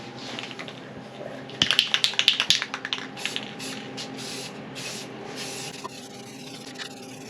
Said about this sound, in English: I think we're ready to shoot a little bit of primer on them first.